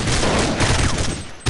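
Dense, rapid gunfire crackles continuously in a Counter-Strike match, a loud volley of shots with a sharp burst right at the end.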